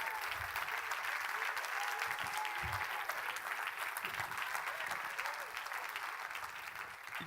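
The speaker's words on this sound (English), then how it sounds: "as soon as the church begins to clap its hands and worship" Church congregation clapping hands during worship, a dense sustained roar of many hands applauding together at a steady loud level throughout, with voices mixed in underneath.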